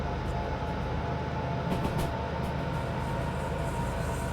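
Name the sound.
train wheels squealing through curve in video game Derail Valley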